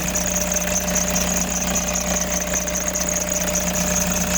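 A Toyota HiAce Grandia van engine idles steadily with a constant high-pitched squeal from a wet drive belt riding over it, continuous and fairly loud, with a low rumble underneath.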